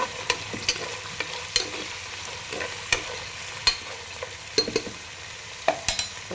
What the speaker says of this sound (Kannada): ಫ್ರೈ ಮಾಡಿ ಇದನ್ನು